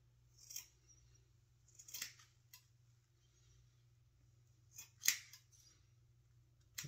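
Scissors snip at a beard in a few separate close, crisp bursts of cutting, with quiet pauses between them and no talking.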